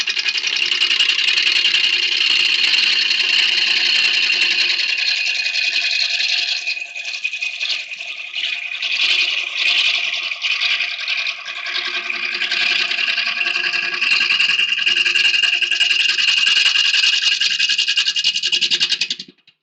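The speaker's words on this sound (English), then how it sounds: "We'll stop the lathe there and have a look." A wood lathe turning a horse chestnut hollow form, a steady close high-pitched buzzing whir with a faint rattle, continuous for about twenty seconds, changing slightly in the middle as the cut varies.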